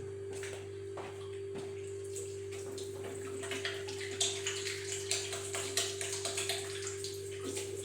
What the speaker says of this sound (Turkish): bir elimi yıkayayım size zahmet